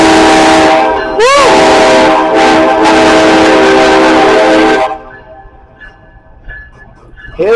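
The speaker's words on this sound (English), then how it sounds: "For the first time ever, this train arrives in Torrington, Connecticut." A train pulling into Torrington, Connecticut, on its first run in 68 years sounds a loud, sustained horn at close range with rumbling wheels beneath, then cuts off abruptly, leaving faint background noise and excited voices.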